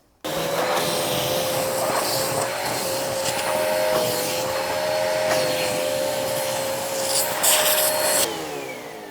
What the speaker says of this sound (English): as soon as I cut it, I vacuum it. I take my vacuum and I vacuum both edges and the center